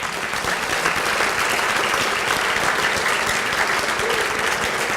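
Sustained applause from an audience at a university Hall of Honor ceremony, steady dense clapping filling the room throughout with no pause.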